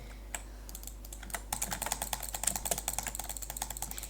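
Rapid drag clicking on a Pantherise Venom 2 gaming mouse, a dense fast burst of crisp clicks that speeds up and continues steadily after a few isolated clicks, close and loud over a low background hum.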